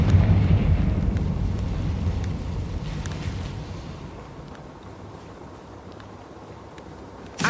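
A Confringo blasting spell erupts in Hogwarts Legacy with a loud, rumbling burst that tails off over several seconds into a low hiss, then a sharp crack at the very end.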